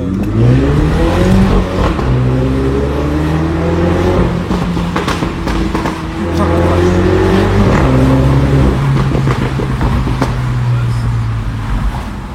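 A Mini Cooper JCW engine revs and accelerates loudly, its pitch climbing and dropping through several gear changes, close by and without speech.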